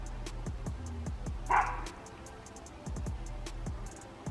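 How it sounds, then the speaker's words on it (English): A dog barks repeatedly from a short distance indoors, sharp yips spaced in irregular clusters over a steady low hum, with no talk over them. "my dog's barking."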